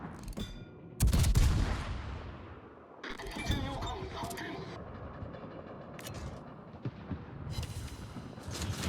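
Naval guns fire in a warship video game: heavy booming salvos with rumbling tails, a big blast then scattered further shots, under frequent talk.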